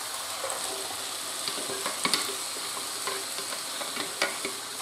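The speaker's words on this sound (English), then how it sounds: "we're now going to add the tomatoes" Tomatoes go into a hot pan with onions and sizzle steadily at moderate volume, with light stirring scrapes and a few sharp clicks from a utensil.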